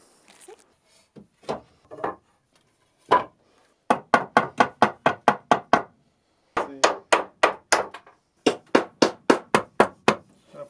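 A hammer drives nails into wooden bed slats inside a mountain hut, sharp close blows in rapid runs of eight to ten strikes with short pauses, after a few scattered lighter taps.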